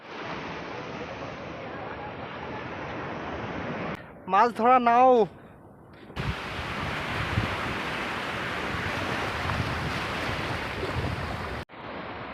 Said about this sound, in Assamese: ঠাণ্ডা ঠাণ্ডা হাৱা কি ধুনীয়াকে বতাহ বলি আছে